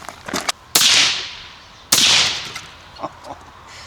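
Two sharp, loud gunshots from a 6.5 hunting rifle fitted with an Airlock Zero Gravity suppressor, fired outdoors about a second apart, each a cracking burst with a brief decay, with faint clicks and handling noises around them.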